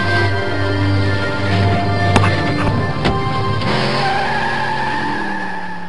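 A car in the Broken Sword game skids with loud, sustained tire squeal over a roaring engine, the screech bending in pitch as the vehicle slides.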